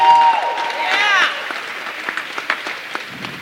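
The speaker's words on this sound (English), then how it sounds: "So give them a round of applause." Applause from an audience at a Harley-Davidson dealership in Fort Lauderdale, Florida, fairly loud at first and then thinning into scattered claps, with voices and a brief whistle-like tone near the start.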